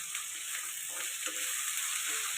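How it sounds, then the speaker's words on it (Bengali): Diagonally sliced okra fries in oil in a pan, a soft, steady sizzle with faint stirring scrapes, heard alone and fairly quiet. "একটু ভাজা ভাজা করে নেবো।"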